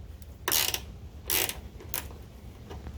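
A socket wrench ratchets out a 13mm bolt holding the tailgate cable on a GMC Sierra or Chevy Silverado pickup, giving three short, close clicking bursts with brief pauses between them.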